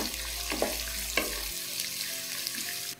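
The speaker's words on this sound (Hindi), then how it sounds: "तो अब इसमें हम डाल देंगे कटी हुई प्याज, प्याजों को हम फ्राई कर लेंगे।" Chopped onions frying in a pan for a spicy chicken curry, a soft steady sizzle with a couple of light stirring scrapes, fairly quiet and close, no voices.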